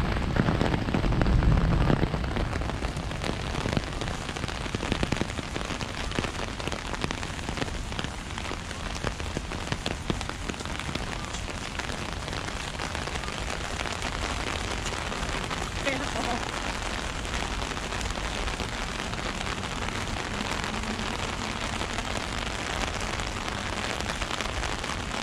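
Steady heavy rain pours at Gardens by the Bay in Singapore, a loud continuous hiss of drops striking surfaces close by, with people talking over it now and then.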